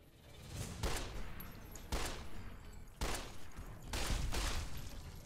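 Gunfire in Fallout New Vegas: four or five evenly spaced heavy shots at roughly one-second intervals, each one a loud, close blast that rings out through a low background rumble.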